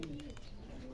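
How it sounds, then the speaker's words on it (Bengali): Pigeons gathering to be fed mustard seed, giving soft, low cooing close by, faint and brief against a quiet background. "এই যে সব কবুতরগুলো চলে আসছে।"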